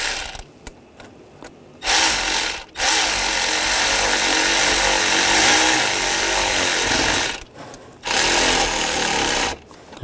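A 7mm socket tightening a worm clamp at the throttle body of a 2009-2017 Volkswagen Tiguan 2.0L four-cylinder: three close, whirring mechanical bursts, the middle one long and steady, separated by brief quiet pauses.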